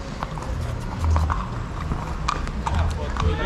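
Hooves of several horses clip-clopping during a group ride, a loose uneven rhythm of hoofbeats nearby, with people chatting over them.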